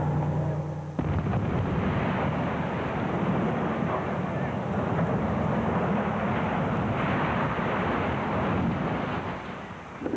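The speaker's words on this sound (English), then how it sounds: "With Summit Street closed to traffic and 60 pounds of nitro set to explode, the countdown began." Demolition of power plant smokestacks with 60 pounds of nitro gives one sudden loud blast. A heavy, roaring rumble follows and holds for several seconds before fading, with wind buffeting the microphone.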